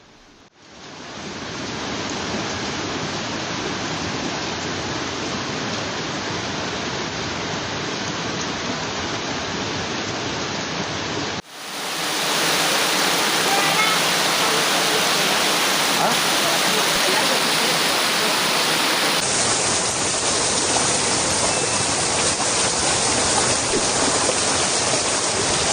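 Flash floodwater from torrential rains in Venezuela rushes through streets as a loud, steady roar of broadband noise, growing fuller and louder partway through with no break.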